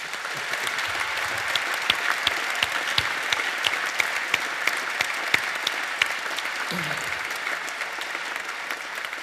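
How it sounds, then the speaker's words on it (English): An awards-ceremony audience at a startup awards event gives a sustained round of applause, dense and steady clapping that fills the whole stretch without pause and with no voices over it. "Please make a big applause for them."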